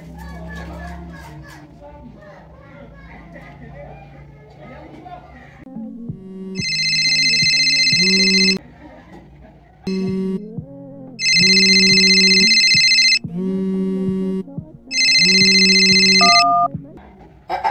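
A phone rings out while a call is being placed, sounding in three long, loud, repeated bursts with short gaps between them. Children's voices and chatter come before the ringing starts.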